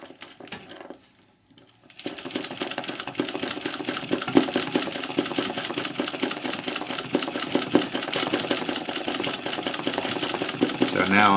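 After a quiet moment, a sewing machine starts running steadily for free motion embroidery of a landscape, its fast mechanical whir and needle rhythm continuing close and even.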